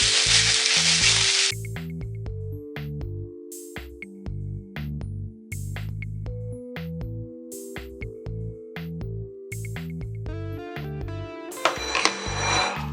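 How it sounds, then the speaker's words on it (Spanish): Apples and raisins sauté in a frying pan for an apple cake, giving a brief, steady sizzle at the start that soon fades under louder background music with plucked tones. "vamos a estar salteando hasta que la manzana haya suavizado"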